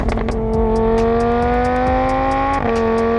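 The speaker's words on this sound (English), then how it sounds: "I've got the Lamborghini race exhaust on there at the moment" A Lamborghini Huracan Super Trofeo with a straight-piped race exhaust revs hard and holds a high, buzzing exhaust note, then shifts pitch briefly near the end, loud and close.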